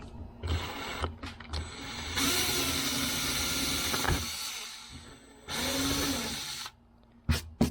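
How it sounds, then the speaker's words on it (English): A power drill bores out rivets on a wooden aircraft under construction, with several loud bursts of high-pitched whirring separated by short pauses and handling clicks. "So we'll get these guys drilled out."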